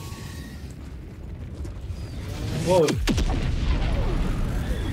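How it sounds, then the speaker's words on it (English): A loud explosion bursts in the Helldivers 2 video game, arriving as a sharp, booming blast with a falling sweep about halfway through, over constant game rumble. A man gasps briefly just before it. "So the explosion does hurt you when you're too close."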